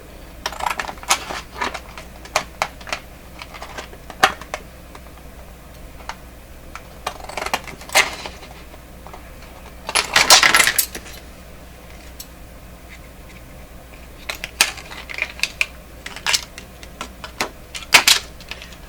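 Old scissors cutting in a workshop while a rectangle is trimmed and its edges cleaned up, giving sharp irregular snips and clicks, several clustered bursts with quieter gaps, close and fairly loud with no talking.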